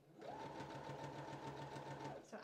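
A sewing machine runs a short continuous stitch along a dress seam, a steady, fairly quiet hum lasting about two seconds before it stops.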